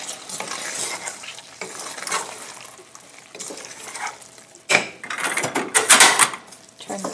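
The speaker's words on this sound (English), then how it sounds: "I'm not going to cook it, just going to mix it well" Lentils being mixed with spices in a pan for shami kabab: scraping and stirring strokes against the cookware with a faint sizzle, louder clattering spoon scrapes near the end.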